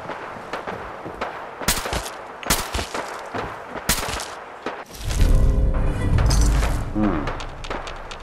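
Gunfire in a Fallout 4 firefight during the Far Harbor Hull Breach quest: sharp repeated shots and bursts crack through the first five seconds, then a loud low rumbling blast with heavy bass swells and lingers.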